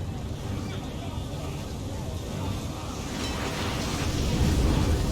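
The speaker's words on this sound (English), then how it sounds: "Here we go, sailing into the storm." Sailing ship heading into a storm in Assassin's Creed 3, a dense roar of wind and crashing water swelling steadily louder as the vessel pushes on, with someone talking over it.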